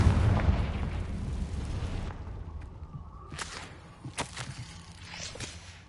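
A Confringo blasting spell bursts in Hogwarts Legacy: a heavy, loud boom opens and rumbles away over about two seconds, followed by quieter scattered impacts and thuds, with no talking.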